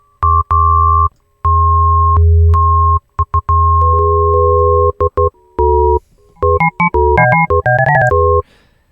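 Harsh, buzzy tones from Ableton Live's Operator synthesizer with reduced sample rate, a gritty digital edge, held notes then quick stepped bursts of bright, aliased pitches.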